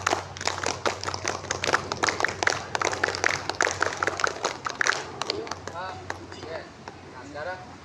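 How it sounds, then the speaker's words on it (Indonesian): Schoolchildren at an elementary school in Indonesia perform the rhythmic scout clap (tepuk pramuka), a loud patterned sequence of sharp group claps done twice, fading into children's chatter toward the end. "2 kali tepuk pramuka."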